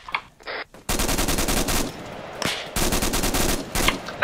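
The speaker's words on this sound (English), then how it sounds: "there are a lot of gunshots here" Video game gunfire during a firefight: dense bursts of rapid automatic shots in two long volleys, loud and close, separated by a short lull with a few isolated shots.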